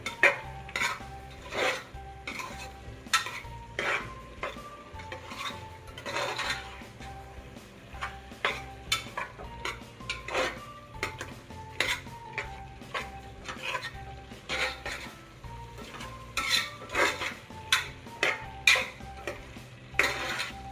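Vegetables and green paste stir-fried in a pan for veg green pulao, with repeated metallic spatula clinks and scrapes against the pan over a soft low hiss.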